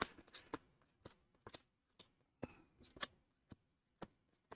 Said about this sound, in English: we'll do a quick little spread shuffle real fast